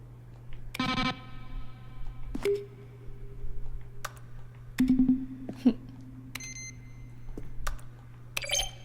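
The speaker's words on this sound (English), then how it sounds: "Each sound is a mix of a keyboard stroke and a synthesized tone." Button-press sounds from the video game The Stanley Parable, each a keyboard stroke blended with a synthesized tone: a handful of separate clicky beeps with sustained electronic tones, spaced out over a steady low hum, with no voices.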